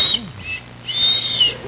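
A woman known as a whistle lady whistles on a televised talk show, giving two high, clear whistled notes: a brief one, a pause, then a longer sustained tone, close and fairly loud over a low background hum.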